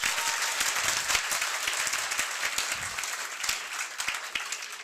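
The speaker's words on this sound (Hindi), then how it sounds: "एक बार जोरदार अपने लिए तालियां बजाइए" Students at a coaching school in Haryana break into a burst of enthusiastic applause, dense clapping from a crowd sustained for several seconds, fairly loud and close.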